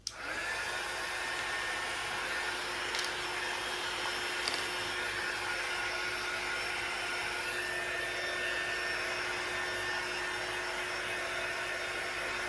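A hair dryer runs continuously while drying craft bricks, a steady close whir and airy rush with a faint high whine, switching on at the start and holding for the whole stretch.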